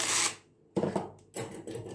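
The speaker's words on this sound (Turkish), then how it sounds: "Şimdi ben yağlı kağıdımı hemen hazırlayayım." Parchment paper crinkles and rubs in short, close bursts, rustling a few times with quiet gaps between.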